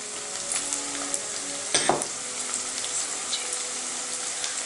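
Onions fry in a pan with curry leaves and turmeric for mirchi ka salan, giving a steady close sizzle with a brief louder crackling burst partway through.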